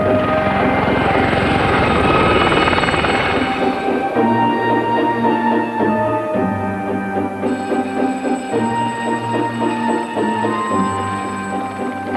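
An army Gazelle training helicopter flies loud and close, its turbine whine and rapid rotor thump holding steady throughout with slight shifts in pitch and no voices.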